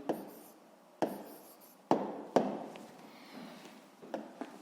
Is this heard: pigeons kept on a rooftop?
no